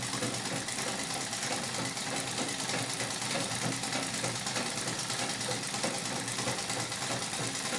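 Singer 31-15 industrial treadle sewing machine running steadily during free motion quilting, a continuous dense mechanical whir and rattle with no pauses, fairly close and even in level throughout.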